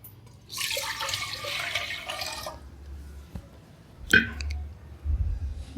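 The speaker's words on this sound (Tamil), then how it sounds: "இப்போ ஒரு குக்கரை அடுப்பில் வச்சுட்டு இதில் 3 கப்பு தண்ணி ஊற்றிக்கலாம்." Water splashes and pours into a metal pressure cooker on the stove for a couple of seconds, followed by a sharp clink and quieter handling sounds.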